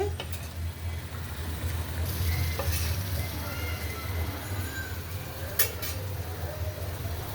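Rohu fish, new potatoes and onion cooking in a pan, a steady sizzle with occasional utensil clinks against the pan and a low background hum, no talk.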